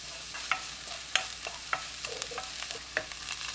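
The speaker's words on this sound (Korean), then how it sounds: "파 넣고 20초 볶아주세요." Green onion stir-frying with minced garlic in a spoonful of cooking oil over medium heat: quiet sizzle with a string of sharp spatula taps and scrapes against the pan, close and without voices.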